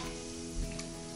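A Disney Mickey bath bomb fizzes in bathwater, giving a steady, even hiss of bubbling throughout with no voices.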